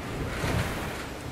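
Ocean waves and gusting wind surround a sailing boat alone on the Atlantic, a dense, steady roar of surf and wind buffeting the microphone with no pauses.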